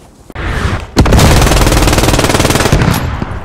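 A Bren light machine gun fires a long, rapid, unbroken burst in the WWII shooter Post Scriptum, loud and close, preceded by a short single report and fading back to ambient noise at the end.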